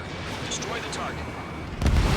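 A destroyed target blowing up in a flight combat video game, a loud low boom bursting in near the end over steady jet and radio ambience.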